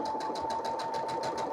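A sewing machine stitches a quilt in a steady, fast, even mechanical whir, close and continuous with regular pulsing beats and no voices.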